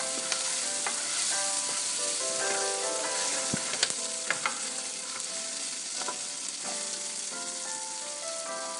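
Green chillies fry in a pan for a Marathi curd-chilli side dish, a steady close sizzle broken by scraping strokes of a ladle as they are stirred, with occasional sharp clicks against the metal.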